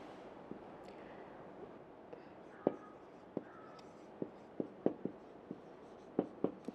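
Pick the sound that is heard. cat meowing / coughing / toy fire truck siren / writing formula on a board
writing formula on a board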